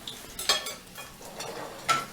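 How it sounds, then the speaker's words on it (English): Small pieces of ginger sauteed in a pan for an Indian cashew curry give a gentle sizzle with a few sharp clinks of stirring, close up and without talk. "just keep on sauteing or frying it"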